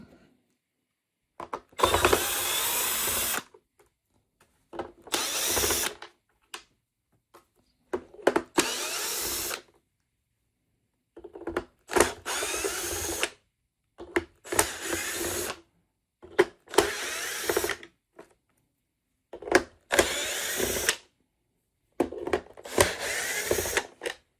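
Power drill spinning out screws from a Kenmore Intuition vacuum power nozzle, about eight short separate bursts of whirring with silent gaps between them, close and fairly loud, no talking.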